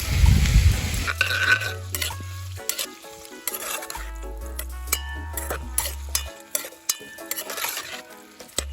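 Red onion frying in hot coconut oil, a soft sizzle with occasional stirring scrapes and faint clinks of a pan, close and steady under no talk.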